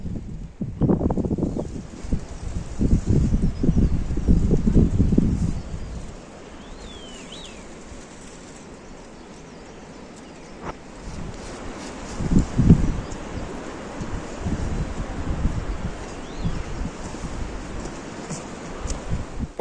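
Strong wind gusting across an open mountain meadow on Mount Gede, rough rumbling buffets against the microphone that come and go, with calmer stretches between gusts and faint bird calls.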